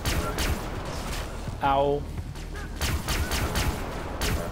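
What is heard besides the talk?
gunshots in Far Cry Blood Dragon video game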